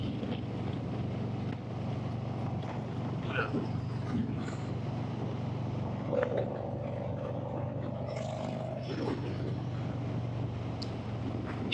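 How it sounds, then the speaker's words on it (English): A Harley-Davidson motorcycle rides along in 44-degree weather with a steady engine drone beneath heavy rushing wind noise. The sound stays fairly constant throughout, with no talking. "And we're riding a Harley Davidson."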